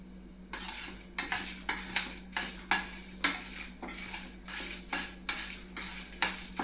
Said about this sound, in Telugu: ఇవన్నీ చక్కగా ఎర్రగా వేయించేసుకోవాలి